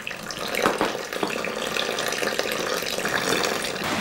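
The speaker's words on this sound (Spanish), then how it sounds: "Le echamos el agua." Water poured into wafer batter of flour, eggs, oil and sugar for traditional handmade wafers baked on iron plates, a steady splashing pour running continuously and fairly close for about four seconds, with no talk.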